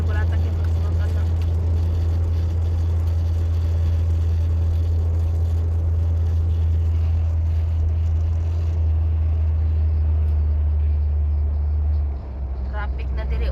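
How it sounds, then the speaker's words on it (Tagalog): Low, steady engine rumble from a vehicle in road traffic runs throughout, with voices talking over it and the drone shifting slightly near the end. "Traffic na diri on"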